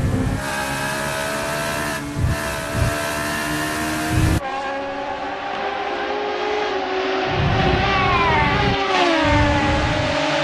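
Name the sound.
racing car engines at Mugello in a sim racing game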